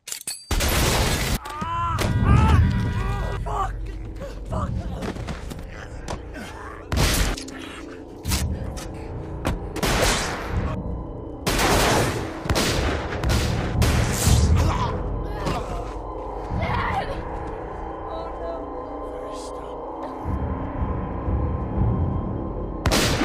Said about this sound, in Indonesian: Di situ John terkena tembakan yang cukup parah.